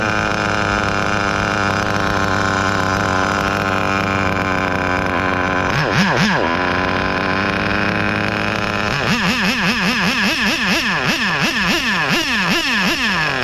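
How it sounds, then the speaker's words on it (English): A small high-revving OS nitro engine in a Kyosho V-One RR vintage touring car buzzes continuously and loudly up close, its pitch wavering and surging in quick rev bursts toward the end. "Incredible OS engine."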